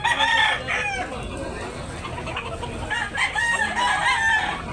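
A rooster crows nearby, a loud drawn-out call, followed by another crow and some clucking from other chickens.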